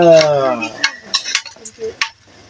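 Food being stirred in a pot during outdoor cooking: a few short scrapes and clinks spaced out over a couple of seconds, close by, after a brief voice at the start.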